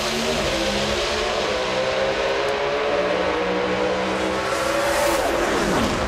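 Powerful NHRA drag racing cars roar at full throttle during qualifying at the AAA Southern California Finals, a loud continuous engine howl that rises in pitch toward the end as the cars accelerate down the strip.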